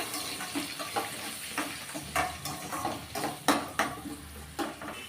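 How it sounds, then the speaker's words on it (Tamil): Onions sizzling in a pan for bitter gourd gravy as a spoon stirs them, with irregular scraping and clinks over a low, steady fry; no voices. "வெங்காயம் கொஞ்சம் நல்லா கண்ணாடி பதம் வர அளவுக்கு நல்லா வதக்கி விட்டுக்கலாம்"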